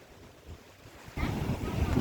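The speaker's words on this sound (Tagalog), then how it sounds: "Ang lakas ng alon guys." Strong ocean surf after a typhoon, low rumbling waves that swell suddenly louder partway through, with wind buffeting the microphone.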